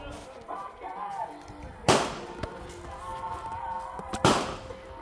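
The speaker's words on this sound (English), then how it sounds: "Fire 3 rounds, and then we're gonna move to the modified" Shots from a Stoeger M3020 20 gauge shotgun with a 26-inch barrel outdoors in bottomland: two sharp, loud blasts a couple of seconds apart, each with a short echoing tail, over faint background noise.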